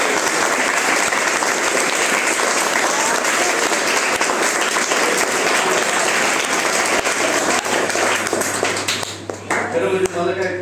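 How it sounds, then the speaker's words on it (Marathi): Audience at a school event with children's performances breaking into sustained, dense applause, loud and close, with a hum underneath, fading out near the end as voices emerge. "सगळ्यांनी टाळ्या वाजवायच्या."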